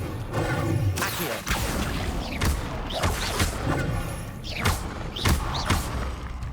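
Spellcasting in the Hogwarts Legacy video game, an Accio summoning spell among others, heard as a series of sharp whooshing thuds and impacts every second or so, loud and close over a low ambient bed.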